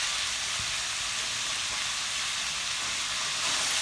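Small shallots fry in oil for a country chicken gravy, a dense, even sizzle that stays loud and close for the whole stretch.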